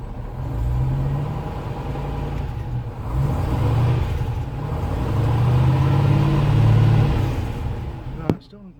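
A 1972 Range Rover's engine rumbles steadily at a mid-pitched idle, swelling and easing a little over several seconds before cutting off abruptly near the end.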